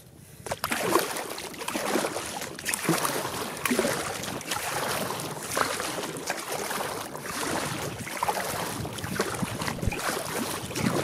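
Boat paddled on a lake near the Zugspitze, with steady wind and water noise filling the sound and a faint rhythmic swish and splash of paddle strokes, no talking.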